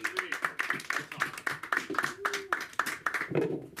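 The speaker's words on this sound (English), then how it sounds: "give a warm round of applause for your producer" A small comedy open-mic audience claps for the producer coming up to do a set, crisp hand claps in a steady, nearly rhythmic patter from close by, with faint talk behind.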